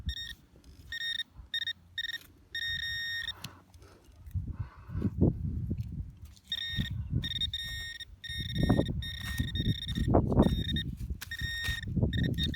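Metal detecting pinpointer beeping over a buried brass nail, a series of short electronic tones in bursts that then continue alongside louder rustling and digging noise close by.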